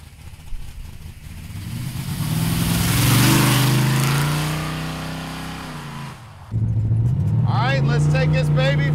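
A 1981 GMC pickup truck engine revs up in a long rising and falling surge, drops briefly, then settles into a steady driving drone with a voice talking over it.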